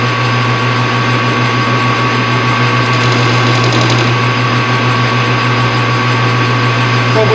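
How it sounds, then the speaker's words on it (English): A lathe runs steadily while facing off a part for a motor-mounted tire buffing stand, giving a continuous mechanical hum and whine with a brief rougher cutting rasp partway through, with no talk. "We're just going to take a little like the lathe right here."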